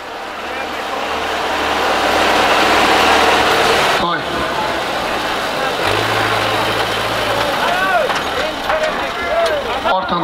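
A running tractor engine idles and churns steadily at a rural outdoor gathering, loud and close throughout, with a brief dropout midway and a crowd's voices talking over it.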